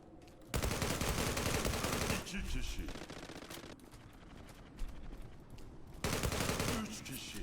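Gunfire in the online shooter Zula, with loud bursts of automatic fire that start and stop and a quieter stretch between them, heard close up over a muffled voice.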